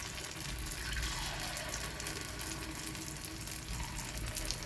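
Dosa-batter kara kuzhi paniyaram frying in oil in a paniyaram pan, a continuous soft sizzle and crackle at close range, steady throughout with no talking.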